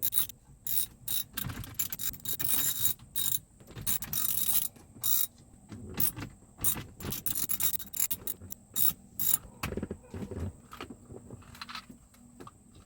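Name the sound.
Torx 20 driver removing four bolts from Mercedes climate module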